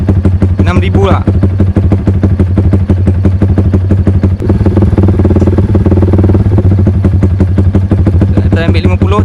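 A motorcycle engine tuned through an aftermarket ECU runs loud and close with a rapid, pulsing rhythm. Speech runs over the engine throughout, and no distinct backfire pops stand out.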